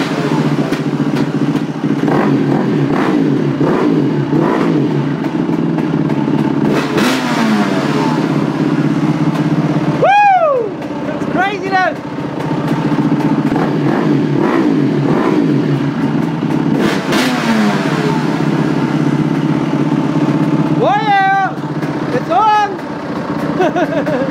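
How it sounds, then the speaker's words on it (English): Two-stroke and four-stroke engines rev together up close, a loud continuous drone broken by repeated rising and falling throttle blips and sharp revs. "got some two-stroke, four-stroke action."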